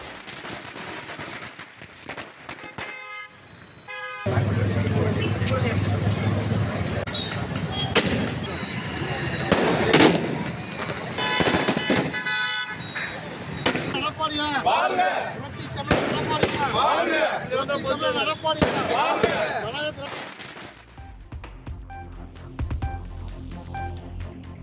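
Firecrackers burst in rapid, crackling volleys at an AIADMK political celebration in Erode, with loud close pops and rattling strings for most of the stretch, mixed with voices of people talking, before fading to quieter sounds at the end.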